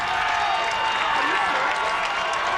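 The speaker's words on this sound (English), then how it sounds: "Hill City fans on the near side getting on their feet to cheer on their Ringnecks" Football fans in the stands at a 2010 Kansas eight-man state championship game, Hill City versus Madison, cheer and clap steadily as a dense, continuous roar of crowd noise.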